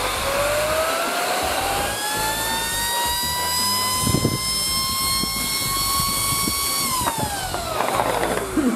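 A jet-powered cooling fan from MX GUARDS runs loudly enough to lift a table, with a steady, whining turbine roar that climbs in pitch, holds, then spools down near the end. Occasional thumps and handling noise sound over it.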